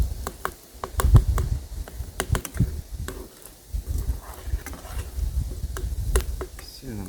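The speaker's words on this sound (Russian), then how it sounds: "А это жарится морковь" Carrots fry in a pan on a wood-heated stove, giving a steady low sizzle and crackle with scattered sharp clicks and pops of spattering oil, moderately close and without talk.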